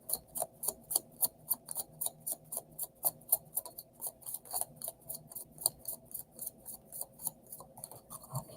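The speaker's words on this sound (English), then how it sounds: "Okay, that was a good shuffle." Tarot cards being shuffled by hand, a quick series of crisp riffling snaps and flicks in a regular rhythm, close and fairly quiet with no talk.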